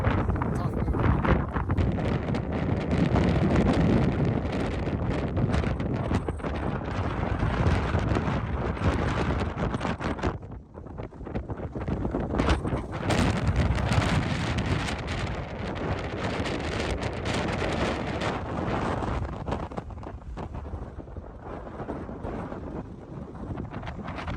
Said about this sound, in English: the wind is blowing off everything, so it's just tough moving